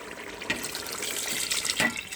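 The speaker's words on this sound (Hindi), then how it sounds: "अब हम इसमें पानी डालेंगे।" Water pours into a pot of chicken pulao as a soft, steady splashing rush over about two seconds, with a few louder gushes along the way.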